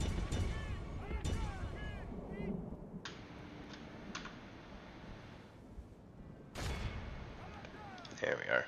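A mortar-like siege weapon in Silmarillion: Total War fires and explodes, sending a few sharp, booming blasts through a dense battle din, with voices in the mix.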